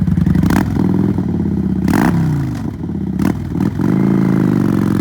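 A used 2021 Kawasaki Vulcan 900 Custom V-twin cruiser motorcycle revs loudly and close, its engine rising and falling in several throttle blips over a steady idle, with no talking.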